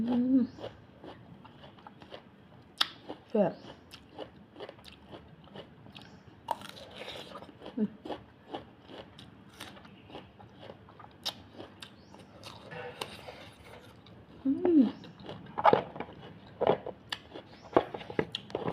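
Close-up bites and chewing of crunchy, sweet Thai food during a mukbang-style meal, with repeated crisp crunches at irregular intervals and a few brief murmurs between them.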